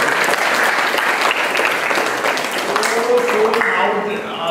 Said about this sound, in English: We have to clap for him.